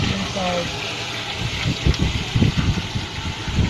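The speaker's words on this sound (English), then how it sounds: "So, we would pour the water in it now." Ten liters of water poured into a pedal-powered laundry washing machine that runs without electricity, a steady close gush and splash with a low rumbling undertone throughout.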